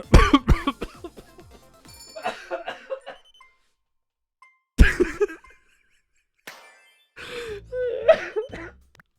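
Several loud, close coughs open the sequence, rough and bursty, followed by quieter vocal sounds and a chuckle-like burst, with another hard cough near the middle and further breathy noises after, during a casual Tetris 99 gaming session.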